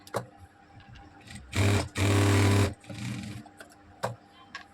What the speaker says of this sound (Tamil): ரெண்டு பக்கமும் வந்து தையல் போட்டு எடுத்துக்கலாம்